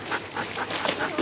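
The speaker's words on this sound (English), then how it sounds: "because there's a dog coming down, we all keep on one side" A dog on a moorland walking trail gives short whimpers and yips close by amid wind and outdoor noise.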